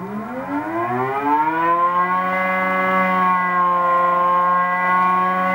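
A 48V electric watermaker motor aboard a catamaran spins up with a rising harmonic whine that settles into a steady, loud, tonal hum.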